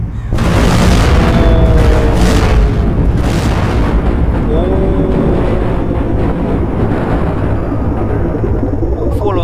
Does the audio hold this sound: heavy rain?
no